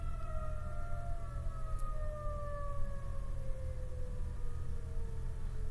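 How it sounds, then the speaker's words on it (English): Several distant sirens wail at once near a steel mill, their overlapping tones slowly falling in pitch over a constant low rumble. "There's so many sirens going off right now."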